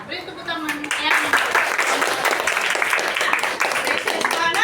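Children in a sixth-grade classroom clap together in a sustained round of applause, a dense steady patter that fills the room, with a few voices mixed in near the start.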